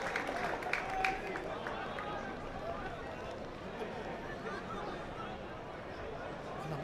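Stadium crowd at a football cup quarter-final between APIA Leichhardt and Melbourne Victoria in Australia, a broad steady wash of applause and crowd noise under a commentator's voice.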